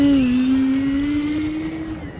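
An E-flite Extra 300 RC airplane drones at half throttle, a steady buzzing motor tone that holds its pitch and slowly fades as it flies off, heard alone.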